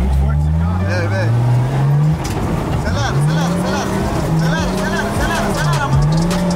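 A Nissan 350Z engine revs loud and close, pitch rising and falling in repeated surges as the car accelerates, with people talking over the engine noise.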